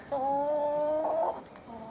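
A single drawn-out, steady hen call from fairly close by in a garden, lasting about a second, with a quiet outdoor background.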